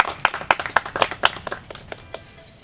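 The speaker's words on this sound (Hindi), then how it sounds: "मज़ा आ रहा है तो जोर से ताली मार दीजिए।" Audience at an Independence Day Sunday school programme claps loudly in a brief burst of sharp, rhythmic hand claps that thin out and fade to scattered claps.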